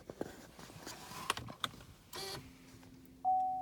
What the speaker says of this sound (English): Then we can just push the button in to activate the liftgate.